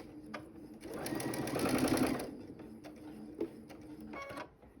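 Sewing machine stitching quilt pieces with medium-to-dark gray thread at a 2.5 stitch length: a close, steady mechanical whir for about a second, then lighter clicks and handling sounds.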